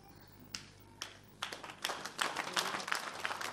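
A church congregation breaks into clapping, starting with a few scattered claps that quickly build into steady, moderately loud applause.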